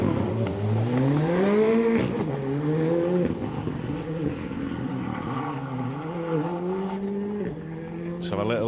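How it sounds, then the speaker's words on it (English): A Ford Fiesta Rally 2 car drives a rally stage at the Lee Holland Memorial Rally 2024, its engine revving up and dropping repeatedly through quick gear changes, loud and close. "Let's have a little listen to the engine in that Rally 2 Fiesta"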